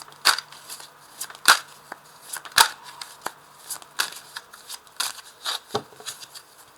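Tarot cards cut into two piles on a table, giving a series of crisp, close shuffling snaps and light papery taps in an irregular rhythm, with no talking.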